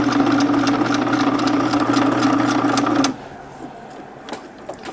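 A sewing machine stitching through thick couch upholstery fabric runs with a steady mechanical whir for about three seconds, then stops abruptly, leaving quiet room sound with a few faint clicks.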